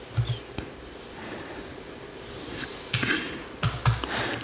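Computer keyboard keys tapped in short bursts while entering a search on YouTube, a few quick clusters of clicks close up with quiet pauses between them, no one talking.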